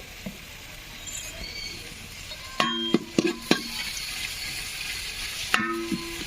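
Thinly sliced onions fry gently in ghee with a soft, low sizzle, broken by several sharp metallic clinks and scrapes of a spatula against the pan, close by and with no voices.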